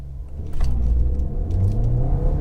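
A stage 1 Ford Fiesta ST launching hard with wheel spin, a loud close engine drone rising in pitch as it accelerates, with no talk.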